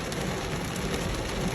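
Heavy rain pours steadily during a flash flood in Death Valley, a dense, constant hiss of drops on surfaces with no let-up, close and loud.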